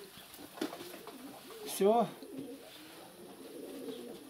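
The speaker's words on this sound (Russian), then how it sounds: "Два голубенка вывелись." Pigeons at a loft with newly hatched squabs give one brief, throaty coo near the middle. A person speaks quietly around it against a soft background.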